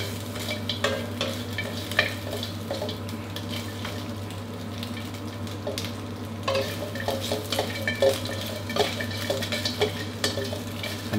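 Crispy pork being stir-fried in a wok with chili, garlic and salt, a steady close sizzle under constant scraping and clinking of a metal spatula against the pan, with no talking.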